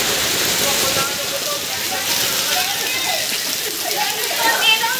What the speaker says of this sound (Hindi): अरे बारिश में भीग जाएगा पैसे।